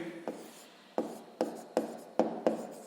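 Pen writing out a math solution on paper, a steady scratching with about six short, sharp strokes or taps at regular intervals, close and fairly quiet, with no voices.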